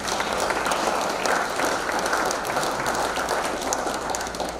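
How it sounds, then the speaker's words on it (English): Steady, dense applause from an awards-ceremony audience fills the room, loud and sustained without a break and no voices over it. "I think he needs a round of applause for that"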